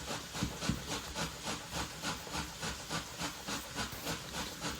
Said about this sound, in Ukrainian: Наливаю рослинної олії і трішки обсмажую їх